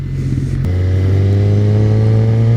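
A sport motorcycle pulls away as the clutch is released: a steady mid-pitched engine drone steps down briefly, then settles into a firm, even hum as the bike moves off at low revs.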